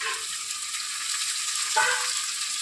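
Shrimp fry in hot oil with chopped onion and chili in a pan, giving a steady, close sizzle with one brief louder spatter partway through, and no voices.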